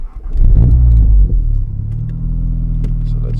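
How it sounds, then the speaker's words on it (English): A Volkswagen Golf MK7 R engine rumbles deep and loud as the car pulls forward, with a brief rev swelling early before settling into a steady, close low drone. "So let's drive it forward a little."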